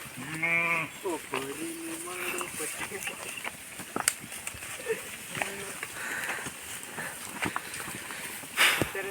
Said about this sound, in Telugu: గొర్రె